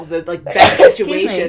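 One sharp, loud sneeze bursts out in the middle of conversation, with voices talking just before and right after it.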